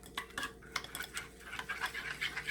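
A honey and apple face mask mixture being stirred in a bowl, with soft irregular scraping and clinking of a utensil against the dish, close and fairly quiet with no voices.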